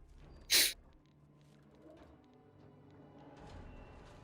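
A single short, sharp sneeze bursts out near the start, loud against a quiet room hum, followed by low background murmur.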